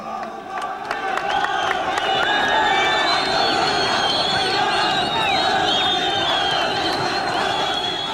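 A hand-picked crowd at a stage-managed Libyan rally roars and chants continuously, a dense wall of cheering and shouting voices with whoops rising above it throughout.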